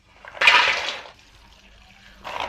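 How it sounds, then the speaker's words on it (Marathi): Fresh, mud-covered peanuts being rinsed in water: a loud splashing swish of about half a second, then a quieter watery lull and a second burst of sloshing at the end. "ही शेंगा मी धुवून घेते"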